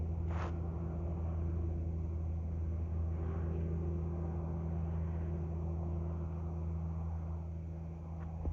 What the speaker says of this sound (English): Can hear some traffic on US 93.